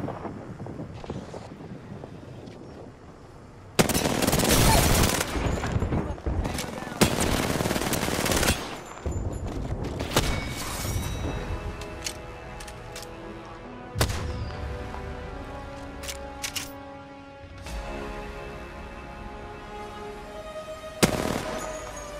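Gunfire and artillery fire in the battle royale game Apex Legends: loud, rapid automatic bursts and heavy blasts separated by short gaps, with wind noise in between and no talk.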